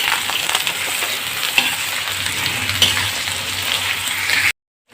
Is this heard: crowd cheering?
no